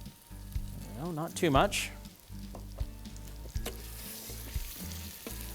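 Rice stirred and frying in vegetable oil in a pan, a steady close sizzle with scraping stirs, as a voice talks over it and a short whistling, wavering tone rises and falls early on.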